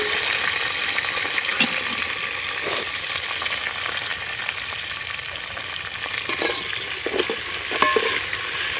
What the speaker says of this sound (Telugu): ఇవన్నీ కూడా డ్రై మసాలాలు వేసుకోగానే అవి టపటప వేలుతాయి అందుకే ఆనియన్స్ వేసేసుకున్నాం